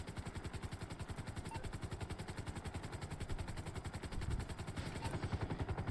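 Helicopter in the GTA Online video game, a steady rapid rotor chop pulsing throughout at close range, with rattling clatter layered over it and no talking.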